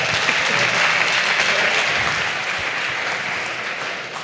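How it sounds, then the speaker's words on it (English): People at a Dallas entrepreneurship event clap together in a warm, continuous wave of applause, loud and crowded at first and easing slightly toward the end. "I just want us all to clap and say,"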